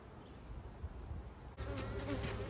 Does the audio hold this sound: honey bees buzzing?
yes